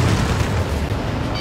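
A missile blast in the jet combat game Ace Combat Assault Horizon, a loud, dense, booming roar that fills the whole brief moment without a pause or any voice over it.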